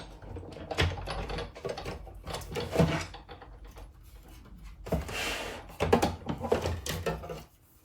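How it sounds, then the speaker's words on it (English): A die cutting machine pressing paper through for a spider bow craft project produces uneven mechanical grinding and clicking with roller rumble, moderately quiet and close, with brief louder surges as the sheet feeds through. "put this in the die cutting machine as well."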